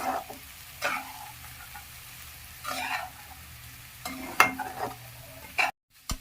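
Soaked puffed rice is stirred in a hot pan, a spoon scraping and tossing in irregular bursts over a soft sizzle, close and without talk.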